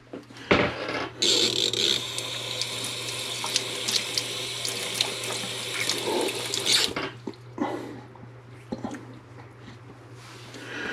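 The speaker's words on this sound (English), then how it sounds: "Just a little bit of water to kind of clean off the grounds" Running water from a tap splashes steadily for several seconds, with scrubbing and clattering as coffee grounds are rinsed from a French press, then the flow stops and quieter handling follows.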